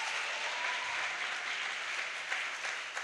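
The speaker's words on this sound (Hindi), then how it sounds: "तो एक बार जोरदार तालियां पीयूष जी के लिए।" An audience gives a sustained round of applause for actor Piyush Mishra at a literary conversation event at Miranda House, dense steady clapping without speech.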